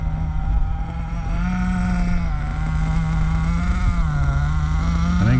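A Hobao Hyper SST nitro RC buggy engine runs during break-in, holding a steady high, lean-sounding rev with a buzzing drone that wavers slightly in pitch and climbs at the end, loud and close.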